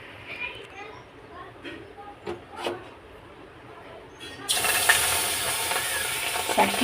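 Water poured into a hot, dry pan for making sugar syrup hisses and sizzles suddenly and steadily close up, after a stretch of quiet kitchen sounds with a voice talking.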